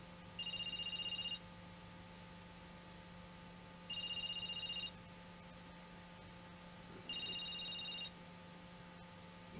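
A telephone rings unanswered, three evenly spaced double-tone trills about three seconds apart, faint and clear over a quiet background hum.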